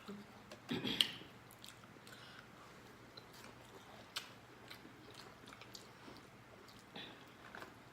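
Close, soft chewing of seafood such as tilapia and shrimp in butter, with wet bites and squishes in irregular bursts over a low steady background hum, no talking.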